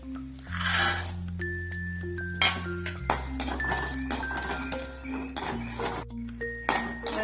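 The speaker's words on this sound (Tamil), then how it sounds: "வேர்க்கடலை இப்படியே வறுத்துக்கினே இருங்க" Peanuts are dry-roasted in a pan while being stirred steadily, giving repeated light clinks and rattles from the pan and spoon over steady background music.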